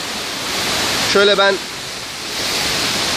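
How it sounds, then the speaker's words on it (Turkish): The Kurşunlu waterfalls in a valley above the Salihli Kurşunlu hot springs give a loud, steady broadband rush of falling water that fills the whole stretch, and someone speaks briefly over it. "şu anda Salihli Kurşunlu Kaplıcalarının üst tarafında Kurşunlu Şelaleleri doğa yürüyüşündeyiz"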